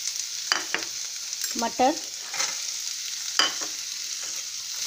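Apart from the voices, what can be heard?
stirring vermicelli frying in oil in a pan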